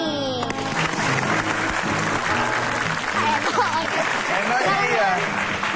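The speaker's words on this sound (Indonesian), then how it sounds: "Langsung aja tepuk tangan buat Eno Bening." A TV talk show studio audience applauds a guest, with steady, dense clapping and crowd noise filling the clip as the host's voice carries over it.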